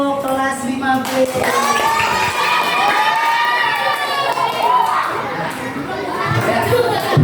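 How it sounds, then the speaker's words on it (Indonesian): A school class claps and cheers together in a classroom, with children shouting and whooping in a steady, loud burst that fills the whole stretch, voices rising over the clapping. "Tepuk tangan untuk kelas 50."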